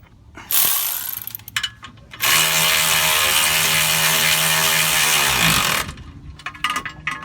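A ratchet wrench tightens a 19 mm bolt on a rear strut of a 2006 Toyota Avalon: a brief mechanical burst, then a loud, close, sustained whirring run of several seconds, with no voices.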